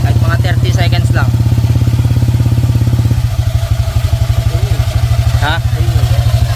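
A Honda Click 125i v3 scooter engine idles loudly and close while warming up, a steady throbbing putter that drops to a slightly lower, more uneven beat partway through, with people talking over it.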